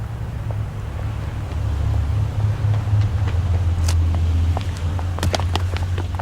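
A small car engine hums steadily as it drives along, a low continuous drone with some wind rush and faint rattles, no voices.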